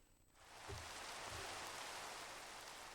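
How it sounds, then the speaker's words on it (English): Steady rain pours down in a video game, starting abruptly and settling into a constant hiss with a couple of soft low thumps near the start. "Oh, good, some rain sounds."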